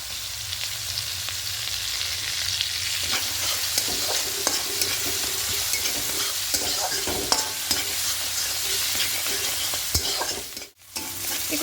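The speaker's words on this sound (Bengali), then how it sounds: "মশলার এই টমেটো কিন্তু খুব ভালো করে আর একটু কষিয়ে নেব" Tomato and spice masala for a fish curry sizzles and crackles in a hot pan while a spoon scrapes and stirs it, with occasional sharper clinks against the metal and a brief dip near the end.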